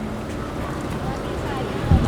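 Strong wind buffets the microphone outdoors at a food stall serving rujak cingur, a steady low rumble of gusts with a louder burst near the end.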